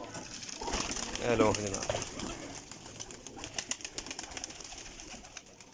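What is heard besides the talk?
pigeons cooing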